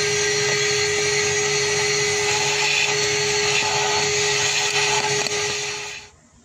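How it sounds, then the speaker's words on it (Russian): A household vacuum cleaner sucks soot and debris out of the injector holes on a 2.4-litre T4 diesel engine, a steady loud whine with a constant hum that runs for about six seconds before being switched off. "удалите из каждого отверстия сажу и мусор самым обычным пылесосом"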